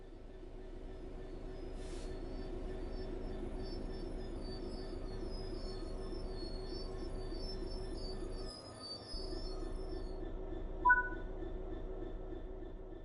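A train slowing to a stop in a train simulator game, steady rumbling rolling noise under a faint high wheel squeal, with a brief dip near the end and a short chirp afterwards, no speech.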